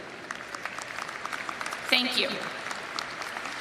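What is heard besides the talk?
audience applause at commencement ceremony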